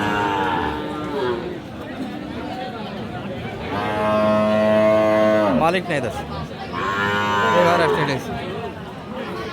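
Bulls moo loudly and close by in long, drawn-out calls at a cattle market, with people chattering in the background.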